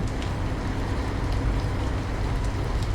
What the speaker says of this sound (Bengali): বৃষ্টি যদিও জোরে নয় ঝিরঝিরিয়ে পড়ছে